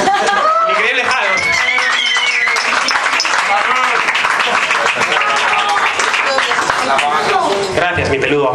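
A live audience at a stand-up comedy monologue show applauds, with dense, steady clapping mixed with cheering and crowd voices that stays loud throughout.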